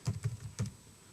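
A few soft, quiet keystrokes on a computer keyboard while code is entered, four light taps in quick succession with a brief pause before the last pair.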